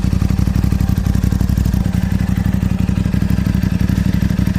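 An Aprilia 660 motorcycle fitted with a MIVV exhaust idles and revs nearby. It gives a loud, steady, throbbing engine note with rapid pulsing and no speech.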